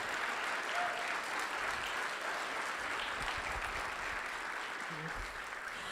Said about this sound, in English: So definitely a round of applause for that.